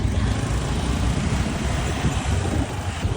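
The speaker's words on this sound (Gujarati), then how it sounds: "અત્યારે એક્ટિવા લીધી છે કેમ કે મોડું થતું હતું, સ્પીડમાં આ લીધી." Steady motor and road rumble from a Honda Activa scooter riding fast in traffic, continuous and fairly loud, with no voices.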